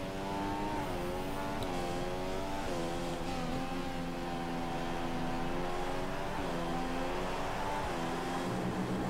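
Formula 1 car engine in the F1 2015 racing video game whines steadily at high revs, with pitch rising through gear changes and dipping at each shift, a continuous near engine note with no talking.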